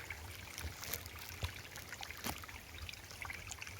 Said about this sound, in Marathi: पाण्यांचा खळखळ खळखळ आवाज